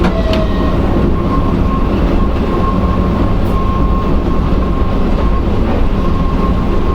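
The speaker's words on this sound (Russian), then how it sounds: "На встречу нам следует электровоз Ермак с грузовым поездом." Ermak electric locomotive hauling a freight train rolls past as an oncoming train, a steady loud rumble of rolling wagons with faint clatter and a thin high squeal throughout, heard from a locomotive cab.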